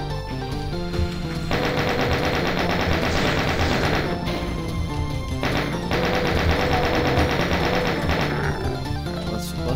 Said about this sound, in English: There's a cyber demon over there shooting at me from the start.